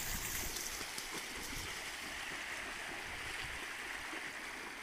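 The Zarafshan river flows in a steady, broad rushing wash of water, continuous and fairly close, with no voices over it.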